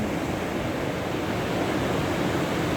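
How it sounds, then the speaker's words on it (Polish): Rough, foaming waves on a stormy Baltic Sea roar in a steady, dense wash of surf that holds loud and unbroken throughout, with some wind noise mixed in. "Jakie spienione fale. Spienione, wkurzone fale."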